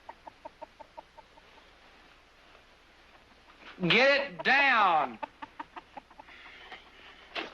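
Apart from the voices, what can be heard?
chicken clucking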